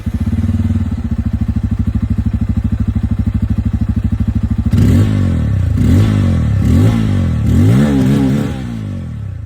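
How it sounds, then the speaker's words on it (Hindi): Bajaj Pulsar N250 motorcycle with a dual barrel exhaust, first idling in a steady, loud thump for about five seconds, then revved hard several times in rising and falling blips close by. "दोनों ही बाइक की यहाँ पर ये जो एग्जॉस्ट साउंड है वो भी मैं आप लोगों को सुना दूं"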